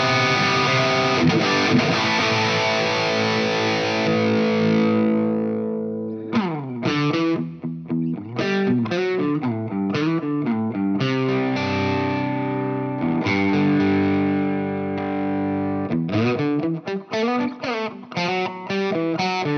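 A high-gain distorted Vigier Rock Art Series electric guitar on the middle pickup plays sustained chords, then chugging palm-muted riffs with stops and restarts, loud and close, no talking.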